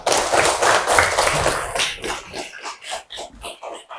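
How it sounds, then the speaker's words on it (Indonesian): A classroom of seventh-grade students at a junior high school claps briefly, a burst of applause that thins into a few scattered, spaced claps before fading out. "Tepuk tangan untuk Roma."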